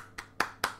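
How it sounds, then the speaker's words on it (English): Three sharp hand claps about a quarter second apart, each with a brief reflected tail as the sound bounces off a nearby brick wall, fairly quiet and alone. "Clapping loudly near a brick wall will produce an echo."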